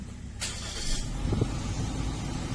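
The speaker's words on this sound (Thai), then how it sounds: "เหยียบเบรกนะคะ แล้วก็กดปุ่มสตาร์ท" A 2017 Suzuki Ciaz 1.2 GLX eco car with about 108,000 km, started by push button: a quick starter whir catches and settles into a steady, close idle.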